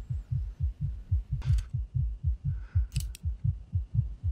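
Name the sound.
fast heartbeat sound effect in Interview with the Vampire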